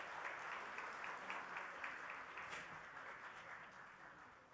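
Sustained audience applause welcoming guests onto the stage at a book release function, a dense, even clapping wash heard from a distance throughout, with no talk over it.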